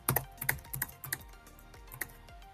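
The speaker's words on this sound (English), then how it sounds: "I'm going to go ahead and enter a new card number" Brisk typing of a credit card number on a computer keyboard, with close, crisp key clicks in quick irregular bursts and short pauses between groups of keystrokes.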